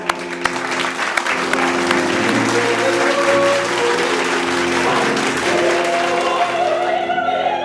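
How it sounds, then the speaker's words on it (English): A church audience applauds after a Sunday announcement, a loud, dense burst of clapping near the start that holds steady and then gradually thins out. "Let's applaud them, people."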